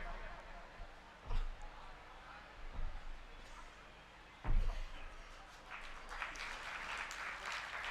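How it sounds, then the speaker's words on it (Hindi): Audience clapping in a hall during an Arya convention session, coming in uneven bursts that swell and fade under a speaker's amplified voice, fairly faint and distant. "तालियां, तालियां रुकनी नहीं चाहिए।"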